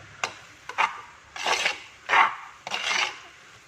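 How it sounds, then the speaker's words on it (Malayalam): A spatula scrapes and turns chili, coriander and meat masala powders sautéing in oil for a Kerala-style country chicken curry, in four rasping strokes against the pan with quiet gaps between them. "ഈ പൊടികളുടെയൊക്കെ പച്ചമണം മാറുന്നത് വരെ നന്നായിട്ട് അങ്ങ് വഴറ്റി കൊടുക്കണം"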